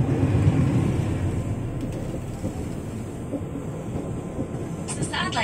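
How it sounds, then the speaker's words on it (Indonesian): A commuter train rolls toward Jatinegara station, a steady low rumble of wheels and carriage filling the space, with a brief higher rattle near the end. "Sesaat lagi kereta akan tiba di stasiun transit Jatinegara"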